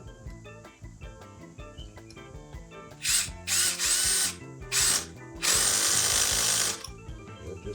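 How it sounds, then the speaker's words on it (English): A power drill drives pocket screws into a wood and vinyl porch screen frame, with several loud whirring bursts of varying length, the longest near the end, over a constant background chirp of crickets. "Stick the screws down in the pocket hole, and then I try to position myself to make sure the drill's going the right way"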